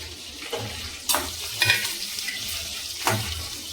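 Green chillies go into a hot pan with curry leaves and fry with a close, crackling sizzle. A few sharper bursts and stirring scrapes rise over the steady frying, with no talking.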